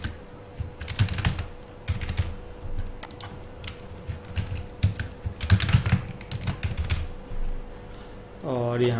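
Password being typed on a computer keyboard: irregular clusters of quick key clicks, close and continuous, with a voice briefly starting at the end.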